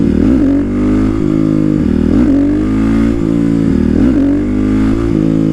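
A motorcycle at a wheelie practice spot revs hard, close and loud, with three or four rhythmic throttle blips that rise and fall about every two seconds over a rumbling idle.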